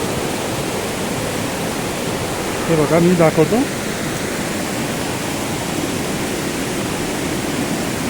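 At the source of the Kukdi river, water pours steadily from a gomukh spout, making a loud, unbroken rushing roar close by. Someone speaks briefly over it.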